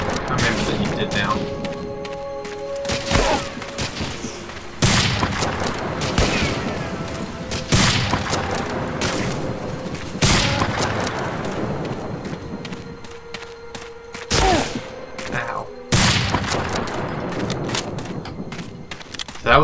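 Gunfire in the World War II shooter Medal of Honor: Allied Assault, with loud repeated bursts and blasts across the clip and a player talking throughout.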